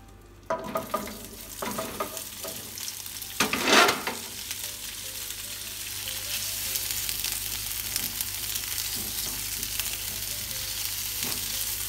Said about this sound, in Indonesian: Kalau sudah panas, tumis sosisnya.